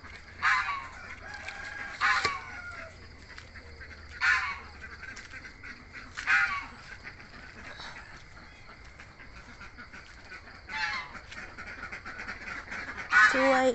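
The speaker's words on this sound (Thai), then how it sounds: "เป็ดเรามีแค่50กว่าตัว" Farm ducks from a flock of just over fifty give repeated loud honking quacks in bursts every couple of seconds, close by, over a faint background hum.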